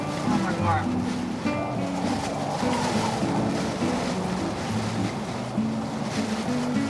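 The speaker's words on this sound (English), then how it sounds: "But the van was shaking from the wind, and it got more intense by the hour." Strong storm wind buffets a camper van in Wales, a continuous loud roar and rumble of gusts shaking the vehicle. People talk over it throughout.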